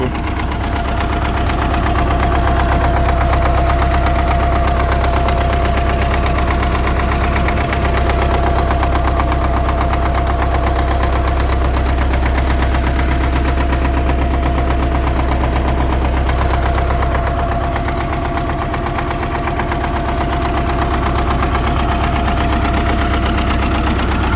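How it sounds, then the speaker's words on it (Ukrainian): A 1986 MTZ-80 diesel tractor engine idles steadily and loudly throughout, with a low knocking rumble and constant vibration, no voices. "вашій увазі МТЗ-80"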